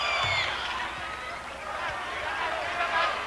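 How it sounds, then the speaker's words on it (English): College basketball crowd during a free throw in a 1987 UNLV at New Mexico State game, a busy wash of yelling and whistles sustained throughout, with a commentator speaking over it. "Crowd trying to make it tough on him."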